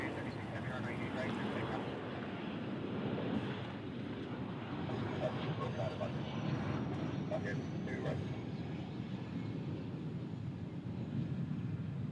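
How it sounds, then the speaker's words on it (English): Hawaiian Airlines jet arriving at rainy Honolulu airport, a steady broad engine roar held throughout under near, continuous talk. "That was Hawaiian flight 1037. It was coming in from Kailua Kona."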